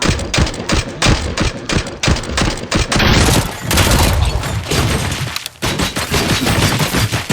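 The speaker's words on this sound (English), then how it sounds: "Just keep shooting." Sustained gunfire in the video game RoboCop: Rogue City, loud and continuous: a rapid stutter of shots, then a dense roaring burst of fire and explosions that carries on with no talk.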